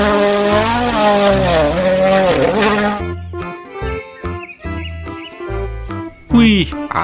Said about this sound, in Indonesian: Wadidaw, kalau ini mobil balap.